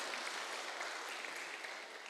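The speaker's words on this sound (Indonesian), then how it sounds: "tepuk tangan dong untuk Persaka Banyumanik" Soft, steady applause from a church Christmas gathering in Semarang, a uniform hiss of many hands clapping at a distance, faint and even, with no voices above it.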